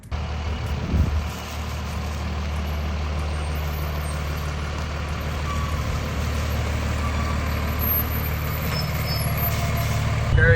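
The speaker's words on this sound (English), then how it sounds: "Rolling the fire department truck." A fire department truck rumbles close by with a steady low engine drone, a sharp hiss of air brakes near the start and another burst at the end.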